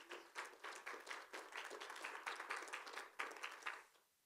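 A church congregation claps together in praise of the Lord during a sermon, dense rhythmic clapping sustained for several seconds before stopping abruptly.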